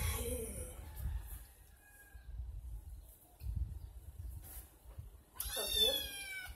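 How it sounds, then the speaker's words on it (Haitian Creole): A small cat meows several times, close and fairly quiet, with a sharper, louder cry near the end and low rumbling handling noise between calls. "Les amis ont bien un petit chat là."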